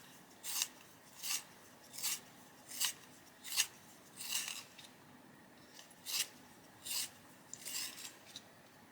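Colouring pencil sharpened with a small handheld sharpener, about a dozen short, quiet rasping scrapes in a steady rhythm, close by and alone with no talk.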